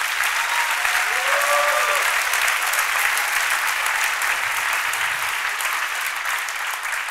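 A church congregation applauding loudly, with dense, steady clapping that fills the whole stretch without a break and a brief voice rising faintly above it early on.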